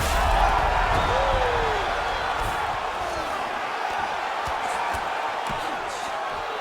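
An arena crowd roars at a women's MMA bout, a dense, sustained wall of cheering that stays loud for several seconds, with a faint commentator voice buried beneath.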